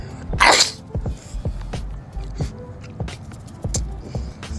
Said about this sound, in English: Just had to sneeze a little bit.